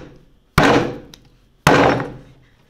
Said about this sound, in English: we take all these big chunks and kind of push it into a big blob as much as possible, kind of bang it on the table